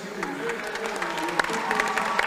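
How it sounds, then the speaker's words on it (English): Crowd applause in a gym during a basketball game ceremony, a busy mix of clapping and scattered cheers with voices murmuring underneath, fairly close and steady throughout. "Ladies and gentlemen, have a big round of applause for our"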